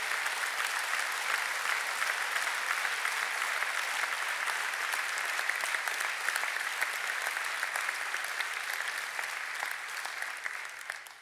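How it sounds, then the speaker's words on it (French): Steady, sustained audience applause honoring firefighters at a New Year's greetings ceremony, a dense wash of many hands clapping at a constant level that tapers off only at the very end. "et on peut applaudir"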